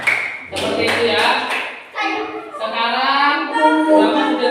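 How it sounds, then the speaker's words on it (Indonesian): Children in a classroom clap their hands in short bursts of sharp taps, mixed with a teacher's voice and children talking. "Ya, tepuk tangan."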